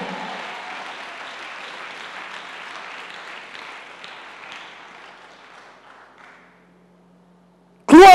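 A church congregation applauds and cheers for Jesus Christ, a moderate wash of clapping that fades away to near silence, then a sudden loud burst right at the end.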